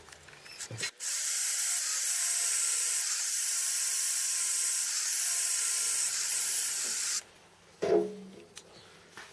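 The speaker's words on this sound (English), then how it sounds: "I'll drill the third one and see how we go" A power drill bores a hole in a metal pulley, running steadily for about six seconds, loud and continuous, then stops, with a few clanks of handling before and after.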